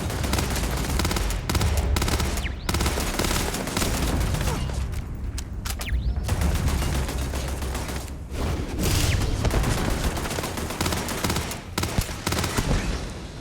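Turret gunfire in Starfield: dense, continuous rapid bursts of shots and booms, loud and close, running nearly the whole time with brief lulls.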